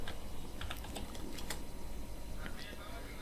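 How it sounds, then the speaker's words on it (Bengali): Faint clicks of a computer keyboard as a search is typed, a few scattered keystrokes and short bursts at low volume beneath a steady hiss and quiet voice. "টাইলস ব্যাকগ্রাউন্ড যদি আমি লিখি, দেখি কি আসে"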